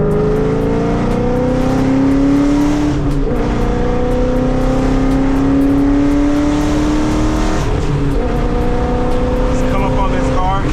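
A 2014 Mustang GT fitted with Brembo brakes drives along a road, its engine droning loudly and steadily with gear-change shifts in pitch as it slows, and someone talks over it.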